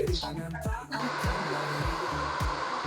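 A hair dryer on a hot setting blows a steady, breathy roar at a barbershop while hair is styled forward. It runs continuously and close, with voices and brief laughter around it.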